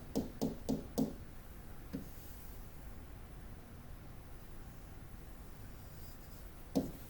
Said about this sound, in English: I'm going to quickly sketch a function.